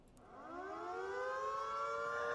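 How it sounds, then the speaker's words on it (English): Siren Horn fitted to a vehicle in the game Crossout wails steadily and rises in pitch like a civil-defence siren, sustained and building in loudness for a couple of seconds with no talking. "It's called the Siren Horn, obviously."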